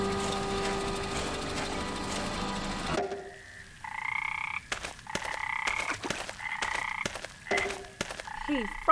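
Frogs croak in a lake in the video game Memoranda: after a few seconds of dense background ambience, repeated clear, rhythmic croaks sound close and loud, with no one speaking.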